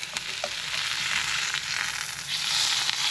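A steak sizzles loudly in a frying pan right after being flipped, a steady bright crackling hiss that fills the whole stretch with small pops, no voices over it.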